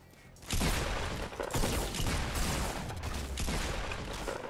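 Crossbow fire and combat in Fortnite Battle Royale, a sudden loud burst after a quiet start followed by sustained heavy shooting and explosive noise throughout.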